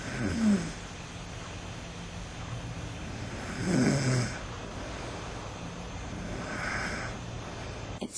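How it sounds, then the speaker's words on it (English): Loud snoring from a sleeping man comes in three separate rasping breaths, spaced a few seconds apart, each fairly faint overall with quiet room noise between them. "I don't think he'll appreciate me waking him up with my loud snoring"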